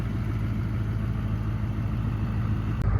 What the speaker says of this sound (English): very tame exhaust, but sounds amazing when you're on the highway